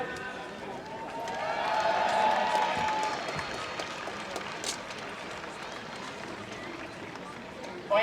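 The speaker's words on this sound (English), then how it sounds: "I'd like a big cheer for the lads" Crowd at an intermediate championship final between Aughrim and Carnew Emmets cheers and applauds for the team, swelling for a couple of seconds, then fading into a busy murmur while people talk.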